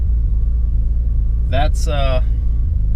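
A turbocharged 2JZ engine in a Lexus IS300 idles with a steady low rumble close by, and a brief spoken word cuts in over it midway.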